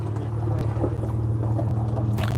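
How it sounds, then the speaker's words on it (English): A classic Jaguar Mark 9 saloon's engine runs at a steady low idle, a close, rumbling hum with a faint mechanical tick, at a busy outdoor show with other engines around. "There are engines firing up all over this. I'm not sure what engine that was. Oh, it's the Jaguar Mark 8."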